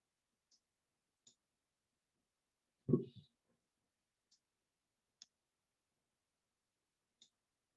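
Sparse, crisp computer mouse clicks ring out one at a time at uneven intervals while roof corner points are marked in PV Watts software, with a short low thump of handling noise partway through; otherwise quiet.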